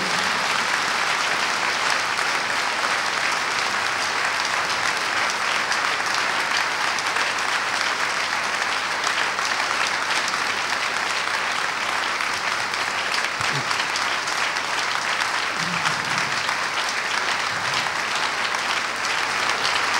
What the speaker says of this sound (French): Alors acclame très fort et remercie le Seigneur